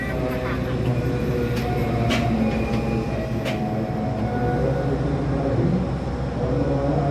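The KA 131 Parahyangan train pulls into Purwakarta station in Indonesia: a continuous low rumble and rattle heard from inside the carriage, with a few brief metallic squeals.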